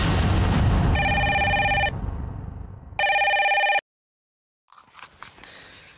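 An outgoing phone call rings twice in two evenly spaced electronic tones, each burst about a second long, followed by silence and then faint rustling.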